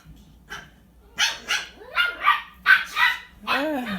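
Several puppies barking and yipping in a quick run of sharp barks, fairly close, with a growly, whining edge near the end.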